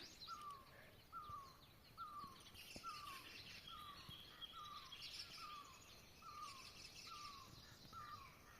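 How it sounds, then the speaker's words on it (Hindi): Bird calls in a hillside jungle: a single repeated call sounding about once per second, around nine times in a row, faint and distant over soft chirping and insect hum. "और देखो पक्षियों की आवाज़ें कितनी प्यारी आ रही है।"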